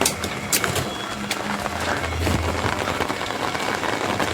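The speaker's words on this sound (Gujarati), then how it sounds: "વરસાદનો માહોલ વાદળ પર ચડી ગયા અત્યારે" Rain patters steadily on a surface nearby in Amra village, with scattered louder drops and no voices.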